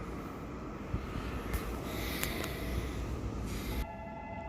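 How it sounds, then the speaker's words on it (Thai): A steady, rumbling approaching train fills the clip, with a few sharp metallic clicks and squeals over the continuous roar. "รถไฟกำลังมา"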